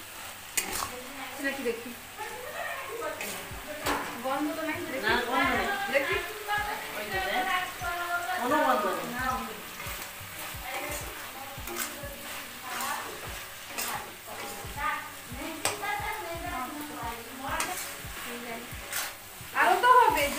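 Shutki (dried fish) curry with malabar spinach is stirred in a pan, the spoon scraping in steady strokes over a constant sizzle of frying, while a person talks briefly in between.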